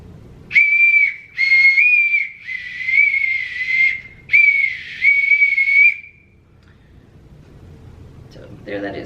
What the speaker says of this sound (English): a bosun's whistle is a funny little copper and brass whistle